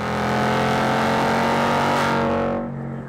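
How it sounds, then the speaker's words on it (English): The V8 of a 2019 Ford Mustang Bullitt revs loudly through its active-valve performance exhaust in a sustained, close roar that fades at the end. "Elevating the Bullitt's sensory experience is an active valve performance exhaust."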